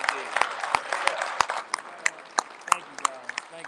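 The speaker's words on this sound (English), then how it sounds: "Gentlemen, can you get his brothers a round of applause" A small group of men claps in scattered, uneven bursts at an informal gathering, individual claps standing out sharply over a lively room with voices talking.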